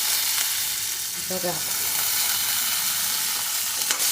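Brinjal frying in a pot of toor dal, a loud steady hiss and sizzle running throughout, with a short word spoken over it and a few faint clinks from stirring.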